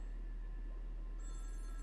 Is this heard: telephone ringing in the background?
yes